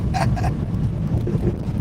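Steady rain patters and drums on a car's surface, with a low rumbling wash underneath and a couple of brief higher bursts near the start.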